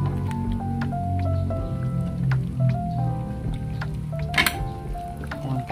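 Boiled pork lifted out of its cooking water, with scattered drips and wet squishing sounds over a steady background of tonal music, and no one speaking.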